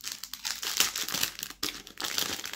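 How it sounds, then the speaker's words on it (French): Plastic wrapper being peeled off both ends of glue sticks, giving close, continuous crinkling and crackling with a brief pause midway, no talking. "Vous enlevez le plastique qui est des deux côtés."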